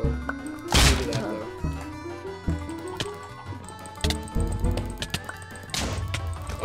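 Explosions from a lucky block in a Minecraft Bedwars match, a loud crashing blast early and another burst near the end, over steady background game music and scattered clicks.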